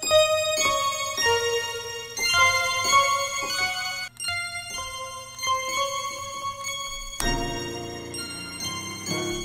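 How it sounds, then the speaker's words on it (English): Bright, bell-like music box synth tones ripple in quick rising and falling arpeggios with a little swing, with a low bass underneath; dark orchestral trap style, no voices. "this one's called the Air Pink Music Box"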